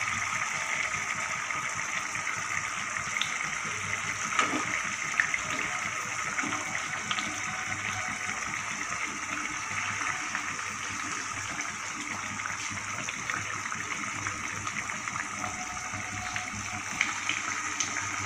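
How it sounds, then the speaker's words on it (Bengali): Water at a rolling boil in a cooking pot before eggs go in, a steady bubbling hiss and gurgle that continues evenly and close by throughout. "জলটা আমার ফুটতে শুরু করে দিয়েছে।"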